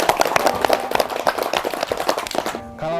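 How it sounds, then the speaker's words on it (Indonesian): Children clap in a lively, uneven burst of many quick hand claps at a school celebration, fairly close and loud, fading out before a brief tonal sound at the end. "Tepuk tangan."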